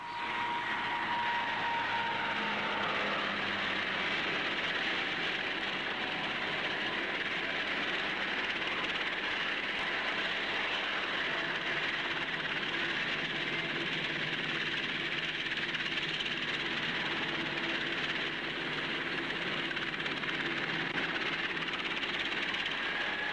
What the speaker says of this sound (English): They're flown in by Hawker Siddeley Argosy freighters.